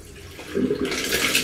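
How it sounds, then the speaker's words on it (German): Dirty brush-cleaning water from a bowl is poured out into a sink, a short, close rush of splashing water that swells suddenly after a quiet moment. "Gebe das Wasser aus."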